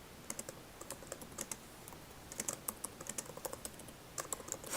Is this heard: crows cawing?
no